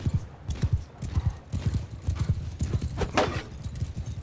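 Horses gallop in Mount & Blade II Bannerlord, a steady run of close, loud hoofbeat clip-clops with a brief neigh and battle noise layered in, no talking.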